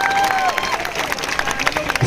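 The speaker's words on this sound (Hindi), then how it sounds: "जोरदार ताली बजा मोदी जी के लिए" A crowd at a political rally in Gujri Chowk, Pandhurna, Madhya Pradesh, applauding and cheering loudly and continuously, a dense wash of clapping with a voice briefly audible near the start.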